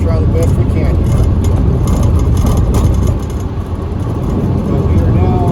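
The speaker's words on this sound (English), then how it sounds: "this bug has a lot of road plates in it, and it's just a noisy car" A 1972 Volkswagen Beetle driving, with a loud, steady drone of engine and road noise from inside the car that dips briefly midway.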